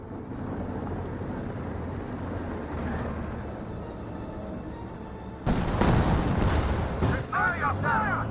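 Tank destroyer cannon rounds in Company of Heroes 2, a steady rumbling battlefield din with a sharper, louder burst of heavy firing and impacts arriving late, under ongoing game noise and voices.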